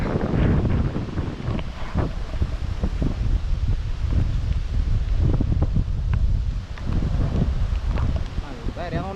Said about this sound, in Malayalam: കടലിൻ്റെ ഭയങ്കര ശബ്ദമൊക്കെ ഉണ്ട് നല്ല കാറ്റ്